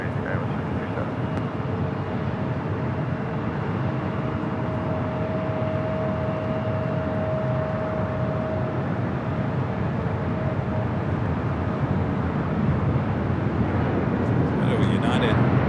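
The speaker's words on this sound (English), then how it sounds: "This is United Airlines 1069 taking off to Chicago O'Hare on the 757-300." A United Airlines Boeing 757-300 jet airliner takes off from LAX bound for Chicago O'Hare, a steady broadband roar with a thin whine that swells slightly toward the end, a voice murmuring underneath.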